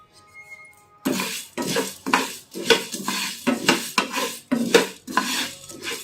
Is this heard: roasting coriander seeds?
yes